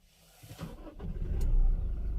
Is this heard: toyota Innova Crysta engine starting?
yes